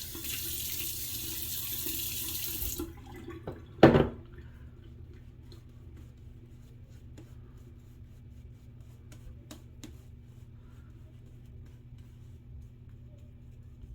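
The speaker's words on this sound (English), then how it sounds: "Put a little more water on his face." Water runs steadily from a bathroom tap into a sink for about three seconds, then stops after a brief splash and clunk, while wetting the face before a razor shave; a low room hum continues afterward.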